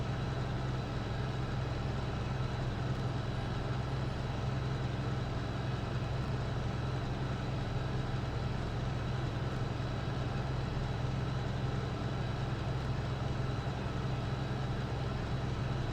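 A farm vehicle driving in Farming Simulator 19 gives a steady, continuous low engine drone with an even rumble throughout, alone and with no talking.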